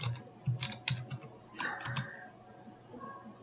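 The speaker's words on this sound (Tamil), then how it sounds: "இப்போ இந்த ப்ரோக்ராமை நான் டைப் பண்ணுறேன்." Quick bursts of keystrokes on a computer keyboard while entering a Python program for a school practical, clattering in short uneven runs with pauses, close and fairly quiet with no talk.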